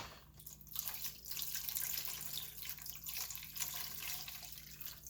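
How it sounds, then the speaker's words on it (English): Vinegar poured steadily into a container holding a pan and shears, a continuous splashing, trickling wash of liquid that runs for several seconds, close by and moderately loud with no talking. "I am going to dump in some vinegar"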